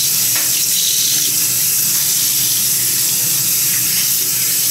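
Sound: tap water running while washing a bleached wig

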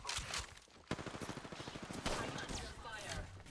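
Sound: gunfire in the video game Apex Legends

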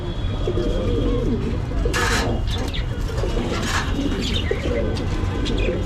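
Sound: pigeons cooing

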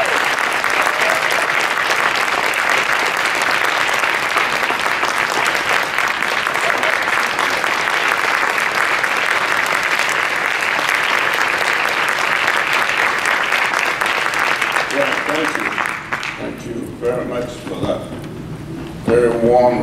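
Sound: audience applause welcoming Dr. David Satcher to the podium

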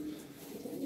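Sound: pigeons cooing

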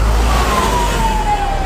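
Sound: ambulance siren approaching in traffic

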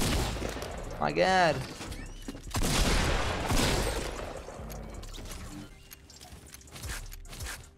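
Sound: gunshots in Fortnite video game

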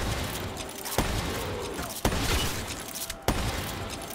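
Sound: gunfire from a video game gun

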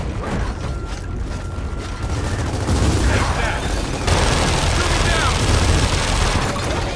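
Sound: gunfire in video game Gears of War 4

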